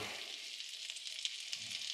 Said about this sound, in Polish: i smażę pod przykryciem, tak żeby były też dobrze zagrzane w środku.